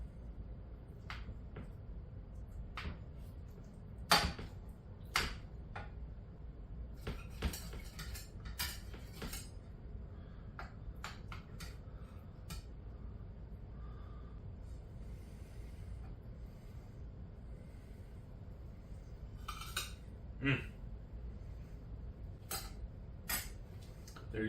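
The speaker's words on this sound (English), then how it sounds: "So let's dish up a piece of this lasagna right here." Crack chicken lasagna served onto a plate, with scattered cutlery clinks and scrapes of a utensil against dish over a quiet background, spaced taps and a few louder knocks.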